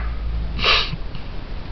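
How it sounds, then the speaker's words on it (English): A single short sniff through a blocked nose from someone with a cold, a quick close breathy burst in the middle of a quiet room. "So excuse me sniffling and wiping my nose in front of you"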